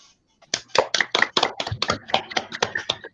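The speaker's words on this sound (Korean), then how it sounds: "다 같이 한번 박수 한번 부탁드립니다" An audience at a Korean academic society's closing panel discussion claps briefly: a short burst of distinct, uneven hand claps from a modest group, close and fairly loud, starting after a moment of silence.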